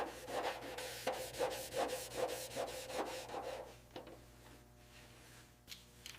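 Wire brush scrubbing the alloy roof of a crushed 1957 Chevy Bel Air during restoration: rhythmic back-and-forth rasping strokes about twice a second, close and steady, then tapering into sparse, fainter scrapes.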